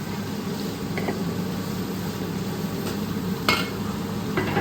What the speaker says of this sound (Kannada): ಆಮೇಲೆ ಇದಕ್ಕೆ ಸ್ವಲ್ಪ ಅರಿಶಿನ ಮತ್ತು ಟೊಮ್ಯಾಟೊ ಹಾಕ್ಬಿಟ್ಟು ಚೆನ್ನಾಗಿ ಫ್ರೈ ಮಾಡ್ಕೊಂಡು ಅಷ್ಟೇ.